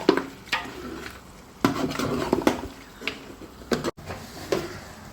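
A utensil stirs masala into beef in a pot for biryani. Irregular metallic clanks and scraping strokes sit close over a faint sizzle.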